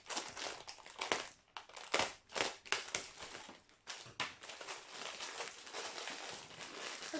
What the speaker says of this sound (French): Alors nous allons déballer.